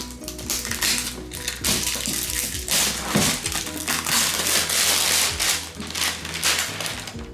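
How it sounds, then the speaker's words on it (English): Plastic wrapping gets ripped and crumpled off an FGTEEV Giant TeeV toy box, producing loud, close crinkling and tearing in irregular bursts, with some tapping and handling noises mixed in. "let's go ahead and rip off the plastic"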